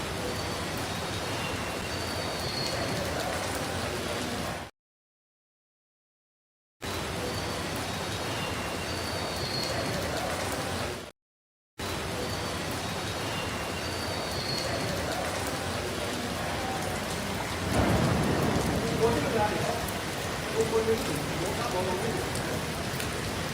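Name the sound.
heavy rain in New York City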